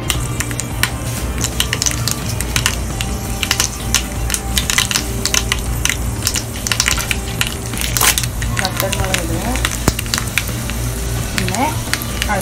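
Mustard seeds crackle and sizzle in hot oil for tempering Kerala-style pachadi, a loud continuous frying hiss dotted with sharp popping bursts throughout.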